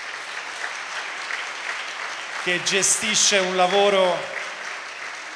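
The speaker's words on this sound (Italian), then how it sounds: "Possiamo fare un applauso alla sala operativa" Audience applause at the 46th Air Brigade's eightieth anniversary celebration in Pisa, honouring the operations room: steady clapping runs throughout while someone speaks over it midway.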